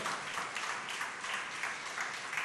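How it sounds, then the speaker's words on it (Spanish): A church congregation claps for a member named Juan José, a moderate, even patter of many hands at middle distance that carries on steadily without speech. "demos un aplauso a Juan José, hermano, que ha sido... aplaudan"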